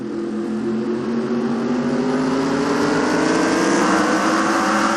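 Race cars roar together at the start of a NASCAR-style video game race at Martinsville, a dense, steady engine drone that rises gradually in pitch as the pack accelerates, with no talk.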